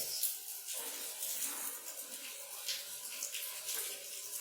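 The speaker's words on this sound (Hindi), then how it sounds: "पानी की आवाज सुनाई दे रही है क्योंकि आ रही है" Water runs from a tap in an indoor room, a faint steady hissing splash that holds evenly for several seconds with no talking over it.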